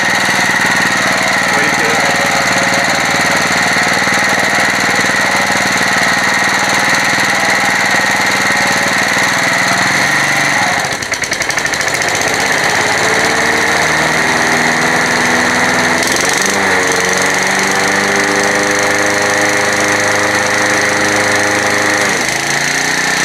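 An old Honda SX motorcycle, started after years of sitting, idles with a steady buzzing rattle, loud and close, its revs dipping briefly midway and again near the end.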